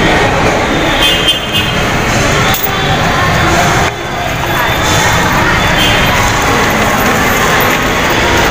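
Rail noise from an LRT train at Baclaran Station in Manila, a loud, steady rumble and clatter that fills the clip, with crowd bustle and voices mixed in around it.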